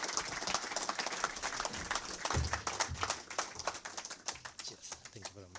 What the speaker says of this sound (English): Everyone, a round of applause, please, for our chief guest, Mr. Paul Tergat.